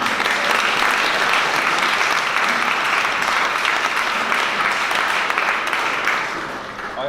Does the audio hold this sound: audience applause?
yes